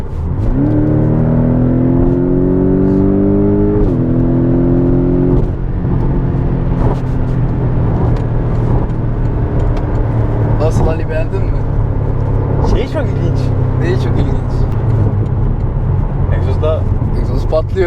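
A Porsche 718 Boxster GTS engine revs and drones loudly with rising, shifting pitch at speed, then settles into a steady roar with sharp crackling exhaust pops scattered through the later part.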